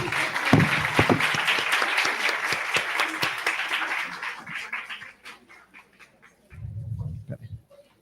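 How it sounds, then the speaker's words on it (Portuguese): Audience applause fills a hall at a palliative care symposium at a Santa Casa hospital, loud and sustained at first, then thinning out and fading before a voice speaks. "Uma salva de palmas,"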